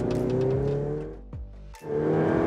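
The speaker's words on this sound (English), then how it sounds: "You tap the accelerator pedal and it lunges forward." A Ferrari 488 Pista's engine roars loudly up close as it accelerates hard. It drops away briefly on an upshift, then surges back, with no talking.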